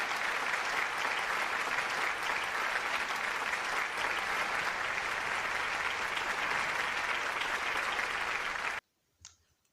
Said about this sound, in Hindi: please put your hands together for the 8-year-old wonder